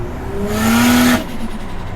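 An 800 hp Ford Barra-engined FPV F6 Ute revving hard under part throttle, a loud close rising engine roar that builds over about half a second, holds, then cuts off sharply.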